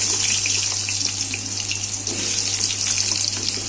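Potatoes frying in fish oil seasoned with white cumin and bay leaf give a continuous, close, bright sizzling hiss with crackling pops and no voices.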